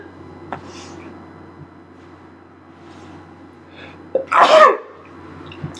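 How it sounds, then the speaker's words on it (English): A single loud, close sneeze bursts out after a few seconds of quiet indoor room noise and faint small sounds, ending with a short breathy tail. "Oh my god, I'm gonna sneeze."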